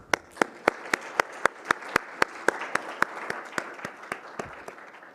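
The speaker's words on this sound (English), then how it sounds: "give some round of applause to our wonderful panelists" A conference audience applauds the panelists at the close of a session on forest genetic resources: a steady run of sharp, closely spaced hand claps that carries on without speech and eases off slightly toward the end.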